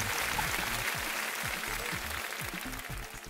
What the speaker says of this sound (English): Where is my fucking applause?